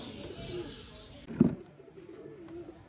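Domestic pigeons, a white-eared Teddy pair kept at a breeder's home, coo softly in a low murmur, with one fuller coo standing out near the middle amid faint background bird sounds.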